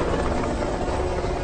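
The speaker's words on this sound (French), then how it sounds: "C'est quoi ça? C'est un hélico de la presse." A news helicopter flies overhead in a film, a brief, continuous rotor and engine buzz at steady loudness with no voices.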